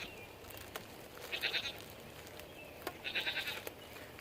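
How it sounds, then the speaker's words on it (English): Goat bleating in a pasture nearby: two loud, wavering bleats a couple of seconds apart over quiet outdoor background, with no talk. "Don't mind my goat."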